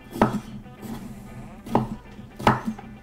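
A knife chops through a bell pepper on a cutting board, giving three sharp, distinct thuds spaced unevenly with faint softer taps between, close and clear.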